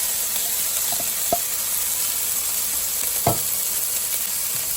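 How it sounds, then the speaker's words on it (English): Cold cooked rice frying with frozen vegetables in a hot pan, a steady close sizzle with a couple of faint clinks from stirring. "We're going to add our rice, cold cooked rice."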